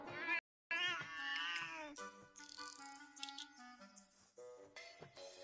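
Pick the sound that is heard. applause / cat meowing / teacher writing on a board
cat meowing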